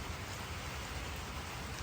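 Steady rain falls on a garden bed, a dense, even hiss of drops close by with constant low rumble, no voices and no pauses across the short stretch.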